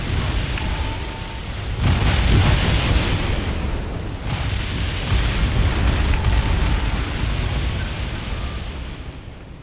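Booming weapon fire and rumbling explosions from a space-strategy battle in Distant Worlds Universe, swelling into two dense, broad surges of low roar over a continuous loud backdrop with no voices.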